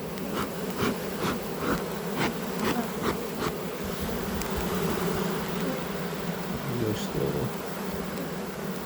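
Honey bees swarm around an opened hive, a dense, continuous buzzing drone close by, with occasional faint sharp taps and brief voices in the background.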